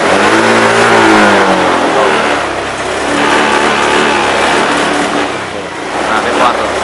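Car engine revved hard with the throttle pressed fully open during a throttle-body check, a loud sustained roar close by that rises and holds, with someone talking over it.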